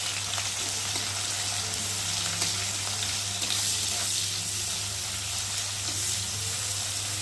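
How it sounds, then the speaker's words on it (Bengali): Chopped onion and chilli frying in hot oil in a wok, a steady, dense sizzle with faint stirring scrapes, close and continuous throughout with no talking. "এখন আমি পেঁয়াজ কুচি আর লঙ্কা কুচি দিয়ে ভালো করে ভেজে নেব।"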